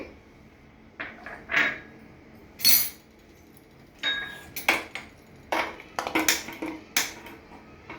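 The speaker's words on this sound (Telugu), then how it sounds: "ఇప్పుడు కందిపప్పు వేసుకుంటున్నామండి" Dry toor dal tipped into a hot pan for dry-roasting, a series of sharp clinks and rattling bursts as the lentils strike the metal, spaced irregularly with quiet gaps between.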